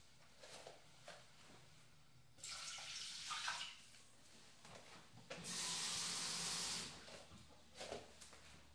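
Water runs and pours in bursts into a cooking pot of rice, with a longer steady stream in the middle, close by and moderately loud, amid quiet kitchen handling sounds.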